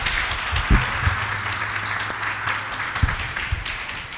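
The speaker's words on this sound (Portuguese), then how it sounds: "Vamos dar uma salva de palmas a Jesus." A church congregation applauds during a sermon, a fairly soft, continuous patter of clapping with a few louder knocks and a low hum underneath.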